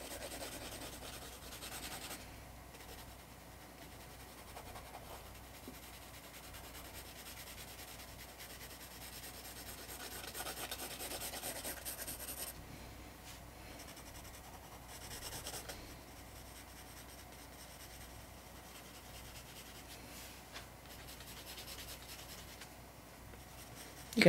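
Pencil shading on sketch paper, a continuous soft scratchy rubbing with strokes rising and easing in waves, close and quiet, with no talking.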